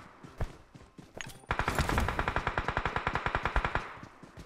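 Automatic gunfire in the PUBG video game: a few scattered single shots, then a long rapid burst of evenly spaced shots, loud and close, without voices.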